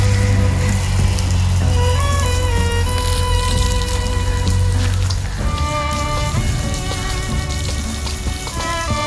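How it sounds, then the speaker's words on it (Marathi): A hose pipe sprays water onto trees and plants at a cricket ground, two women handling the hose, giving a steady, close broadband hiss and splatter throughout, mixed with sustained tonal music; no one speaks. "इकडे पाणी मारायचं काम चालू आहे झाडांना"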